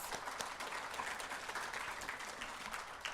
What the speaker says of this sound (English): Another great round of applause, please.